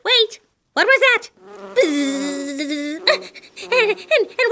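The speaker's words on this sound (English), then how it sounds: "and a bumblebee buzz" A bumblebee buzzes in a spring outdoor setting, a sustained nasal drone with wavering pitch lasting over a second, framed by brief vocal-like chirps and squeaks before and after.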